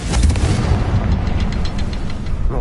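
A Confringo fire-blast spell in the Hogwarts Legacy game erupts as a loud, sustained rumbling burst, dense and booming throughout with crackling texture on top, heard alone without voices.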